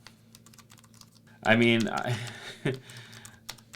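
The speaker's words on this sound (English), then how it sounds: "my fingers are hitting the keys next to the key that I intended to hit" Rapid tapping on a small iPad Mini keyboard with tiny keys runs quietly at first. A voice then speaks over the typing.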